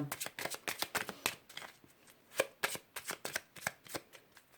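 Tarot cards being shuffled by hand at close range, a quick series of crisp riffling flicks and soft slaps in uneven bursts, quiet and without talk.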